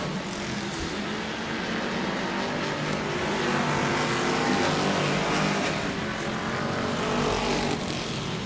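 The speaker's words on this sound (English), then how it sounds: "he's there, 1 car length behind Struble" Race cars circling an oval track, a continuous loud drone of engines, distant and blended, with no talk audible.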